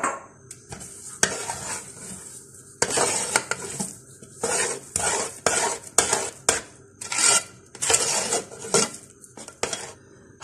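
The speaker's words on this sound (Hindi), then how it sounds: "हलवे को हल्की आंच पे मुसलसल भूनते रहें" Chana dal halwa being stirred and roasted in a pan over low heat, with a spoon scraping and knocking against the pan in repeated bursts, close and fairly loud, with no talking.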